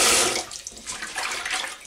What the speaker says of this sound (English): So keep rinsing it, and then eventually your rinse water will turn rather clear